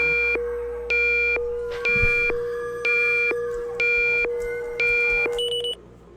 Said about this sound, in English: What you just heard is my proximity alarm.